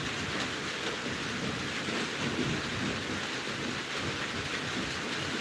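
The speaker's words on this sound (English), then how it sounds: "And also the rains are drizzling." Light drizzling rain, a steady soft hiss of fine droplets that stays even and continuous throughout, with no voices.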